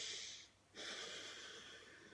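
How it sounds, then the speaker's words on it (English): Two slow, deep, breathy inhalations drawn in close to the microphone, separated by a short pause, soft and airy with no talking. "So breathing in."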